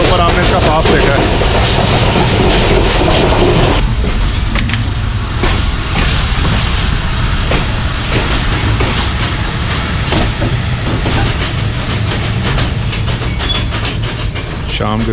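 The Jaffar Express runs past Sohawa railway station on a scenic curve on the Lahore–Rawalpindi line, a loud, steady rumble of wheels and carriages with clickety-clack rhythm throughout, heard close from on board.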